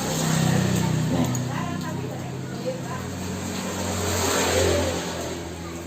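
A Suzuki Carry engine runs close by, its steady mid-pitched drone swelling as it revs and then settling, with a voice talking over it.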